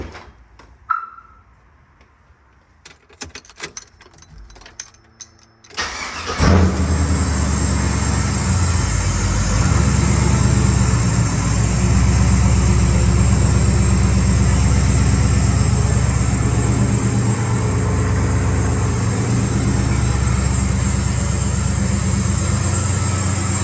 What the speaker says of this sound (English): so I'll just go ahead and start the truck.